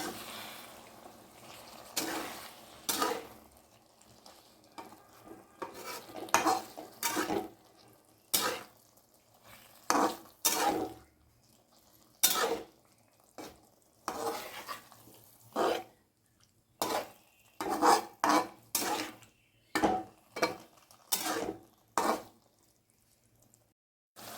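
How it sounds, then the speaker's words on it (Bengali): Whole chickpeas cook with spices in a pan for vegetarian ghugni while a spoon stirs them in short, irregular scraping bursts, each separated by quieter stretches of low simmering. "এবার এটাকে ভালো করে নাড়াচাড়া করে নেব।"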